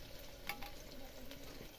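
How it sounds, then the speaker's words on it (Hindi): Steady, soft sizzling of onions frying in a pan for a mutton dish, a continuous crackle with a few brighter pops, heard alone and fairly close. "जब तक प्याज भून रहे हैं"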